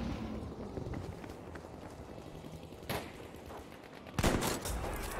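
Gunfire in a sniper-focused video game shooter, with a dense rattle of shots and a louder burst of rapid fire near the end over a continuous rumbling background, without talk.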